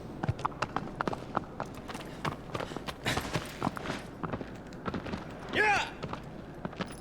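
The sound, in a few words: horse galloping in Shadow of the Colossus video game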